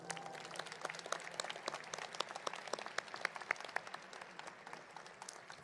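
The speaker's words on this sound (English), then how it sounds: "Seniors, let's show our appreciation by giving them a big round of applause." Graduation ceremony audience in a large stadium applauding seniors' families, a steady dense wash of many hands clapping from a broad crowd, sustained throughout at moderate level with no voices standing out.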